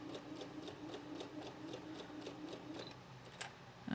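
A sewing machine stitches fabric for a four-patch quilt and runs to the end of a seam before back tacking, giving a quiet, steady, rapid ticking rhythm with a slight bump near the end.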